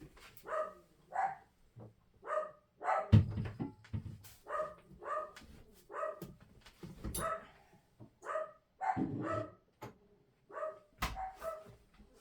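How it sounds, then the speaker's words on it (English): Several dogs bark indoors in a home sewing space, repeated sharp barks and yips in uneven bursts, with a door thud partway through. "what are they barking at?"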